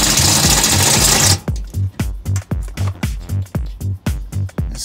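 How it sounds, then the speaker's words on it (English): A power drill with a step bit (unibit) bores through an RV floor: a loud, steady grinding whir, then a series of short, rhythmic bursts as the bit is pulsed through the tough floor, close up. "So we'll go ahead and finish drilling that off."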